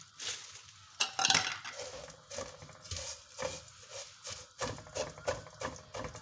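Broken vermicelli pieces drop into a pan in a home kitchen, making a run of dry clinks, rattles and scraping taps, some sharper hits among softer shuffling, close and moderately quiet.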